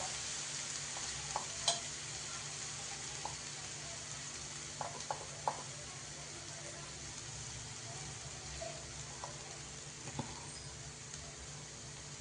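Green chilli paste with a pinch of asafoetida frying in a pan in a home kitchen, a faint steady sizzle with a few soft spoon scrapes and clicks as it is stirred.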